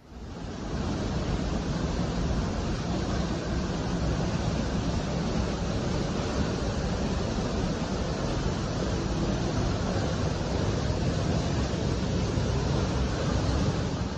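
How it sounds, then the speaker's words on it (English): La Paz Waterfall in Costa Rica roars steadily into a natural pool, a dense, unbroken wash of rushing water that holds at constant strength with no voices. "The water roars as it cascades down into a crystal-clear natural pool at the base of the falls"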